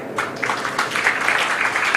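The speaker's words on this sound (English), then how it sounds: "Peter Kariuki, can you clap for that young man?" Scattered audience clapping at a hospital health-week gala in Kenya, a loose patter of hand claps at moderate distance that builds slightly as more people join in.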